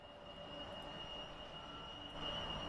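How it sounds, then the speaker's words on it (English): An airplane drones overhead as a steady, distant hum that swells slightly toward the end, alone without any talk. "Sounds like a plane."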